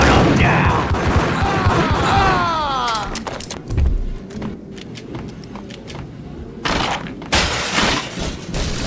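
Gunfire in the Max Payne video game, a rapid burst of shots and shattering at the start, then scattered single bangs and impacts, loud and close amid game effects.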